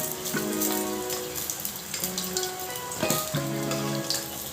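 Fish pieces frying in a pan for a Telugu-style fish fry, with a steady, close crackling sizzle of hot oil throughout and no talking.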